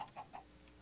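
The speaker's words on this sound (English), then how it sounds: "chicken, chicken, chicken, chicken, I see it." Three quick chicken clucks from a video game, faint and close together, over a quiet background hum.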